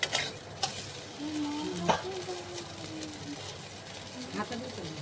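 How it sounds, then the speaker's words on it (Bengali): Fried soybeans for a potol soya badam posto korma are stirred and scooped from a sizzling pan with a ladle: soft scraping and light sizzle, with a voice humming or talking nearby. "আমার এখানে সয়াবিনগুলো ভাজা হয়ে গেছে, এবার আমি যে তুলে নেব পাত্রে।"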